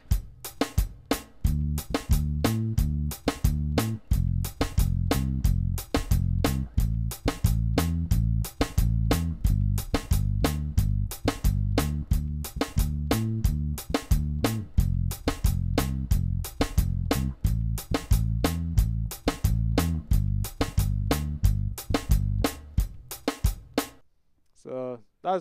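An electric bass plays a repeating soca rhythm that moves from the root to the fifth over changing chords. The steady, syncopated low plucks run loud and continuous for the whole passage, then stop abruptly at the end.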